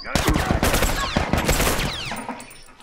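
An M16 rifle fires in a multiplayer shooter video game, with rapid, loud bursts of gunfire and sharp cracks that trail off, under brief background voices.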